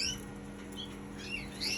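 Caged male mosaic birds, year-old breeding stock kept at home, give faint, high chirps and short squawks over a low steady background hum.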